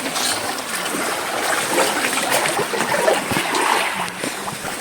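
Continuous water splashing and trickling from people swimming at Flower Beach Resort, a steady wash of close splashes with open outdoor ambience throughout.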